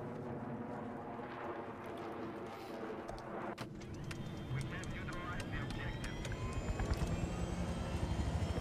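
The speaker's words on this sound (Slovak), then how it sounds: "Dobre, mám helikoptéru." A helicopter in Battlefield 3 gameplay gives a steady, loud engine and rotor drone with mixed game noise. The drone grows slightly stronger toward the end and plays under what sounds like background voice chat.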